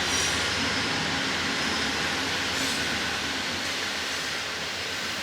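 A loud, steady rumble of a train rolling past up close over an old brick bridge, with a continuous roar and faint metallic hiss throughout, no pauses.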